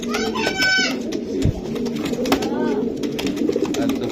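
Racer pigeons coo repeatedly nearby in throaty, rolling bursts, with a voice talking over them and some clattering in the background.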